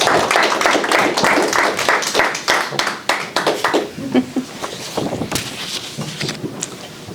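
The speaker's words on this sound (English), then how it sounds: "Parveen Johal, let's give her a round of applause." Audience at a Toastmasters club meeting applauds a speaker as she is introduced: dense, steady crowd clapping that fills the whole stretch, loosening into scattered claps toward the end.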